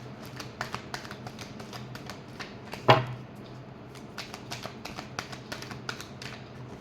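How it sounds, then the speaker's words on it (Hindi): Tarot cards being shuffled give a steady run of light, crisp taps and flicks, close and fairly quiet, with one sharper snap partway through. "last shuffle"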